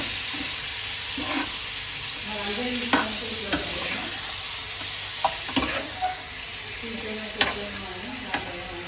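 Chicken sizzles steadily in a pan on a stove while a spoon stirs it, with several sharp scrapes and clinks punctuating the even frying hiss. No one speaks.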